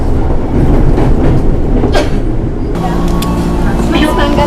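Steady rumble and clatter of a moving KRL commuter train in Jakarta fill the car, with faint squeals and hum from the rails continuing throughout.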